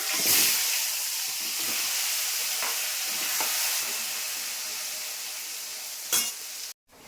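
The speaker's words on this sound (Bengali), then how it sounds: "এখন বাঁধাকপির আলু ভাজছি" Potatoes fry with a constant hissing sizzle in hot oil, broken by a few scrapes and pops, before cutting off suddenly near the end.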